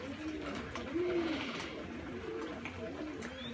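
A pigeon coos softly in a short, low phrase near the start, heard in a quiet outdoor setting with light background noise and no talk over it.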